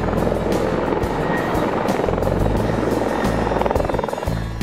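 A rescue helicopter hovers while winching an injured walker up in the Grampians, its rotor throbbing loudly and steadily throughout, close and unbroken.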